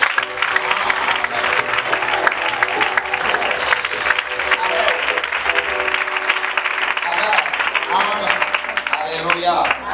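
A church congregation bursts into sustained, loud applause and cheering in acclamation of the Lord, a dense crowd roar of clapping with voices rising through it for about ten seconds.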